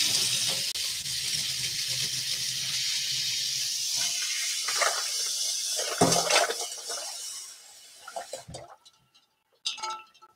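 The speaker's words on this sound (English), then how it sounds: "pour some cold water over the ice, because we're going to create a little ice bath" Cold water poured over ice in a bowl to make a kitchen ice bath: a steady, close splashing pour for several seconds that thins into trickles, with a few light clinks of ice near the end and no talking.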